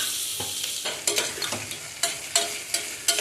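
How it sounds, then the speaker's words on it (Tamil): Onions sautéing in a hot pan for coconut milk rice, a steady sizzle broken by repeated sharp scraping stirs at a quick, irregular rhythm, close and loud with no voices. "ஓரளவுக்கு வெங்காயம் வந்து வதங்கிடுச்சு."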